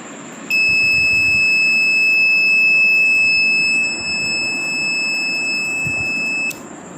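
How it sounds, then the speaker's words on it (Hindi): A loud, steady high-pitched electronic door security alarm, triggered by a magnetic door switch, sounds continuously for several seconds, then cuts off abruptly, over a low background rumble. "जो ही दरवाज़ा खुलेगा अलार्म बजेगा।"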